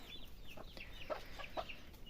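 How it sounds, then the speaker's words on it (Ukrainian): Chickens clucking as they eat scattered wheat grain alongside small chicks, a few short soft clucks spaced apart at close range over a steady quiet background. "Насипаю в різних місцях, тому що кури не дають їсти малим курчатам."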